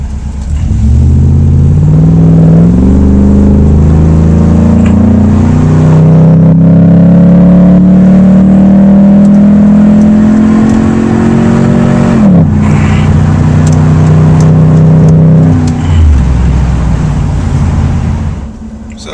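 A car accelerates onto a freeway, its engine note steady and loud from the cabin and rising in pitch through the gears. Someone talks over it the whole time.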